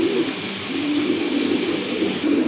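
Pigeons of a large fancy breed, Afsan grizzle, cooing in a low, continuous rolling murmur, close and fairly loud over steady background noise.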